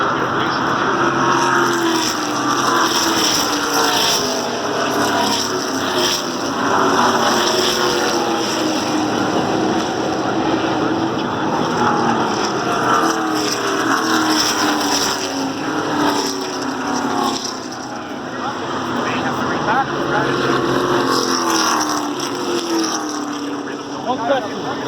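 Truck series race trucks roar past at Pocono Raceway, a loud continuous engine drone that swells and fades as they pass, with people talking nearby.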